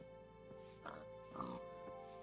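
A pig in a video game gives a couple of faint, short oinks over a steady hum of game music.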